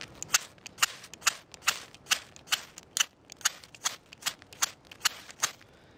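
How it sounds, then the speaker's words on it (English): Misch metal fire steel rod being struck, about fourteen crisp scraping rasps in a quick even rhythm, each throwing sparks, close and fairly loud with no talking. "I can even throw sparks at it from here,"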